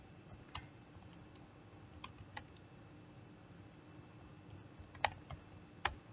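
Keys on a computer keyboard are typed in scattered, sparse clicks, some singly and some in short bursts. The sound is close but quiet over a faint room hiss during Cisco router configuration, with no talking.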